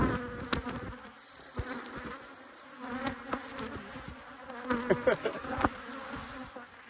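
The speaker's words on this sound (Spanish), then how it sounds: "No sé si se escuchará algo con tanta abeja zumbando" A dense, steady buzzing of many bees swarming close around their hives, with occasional louder passes and faint clicks, no voices.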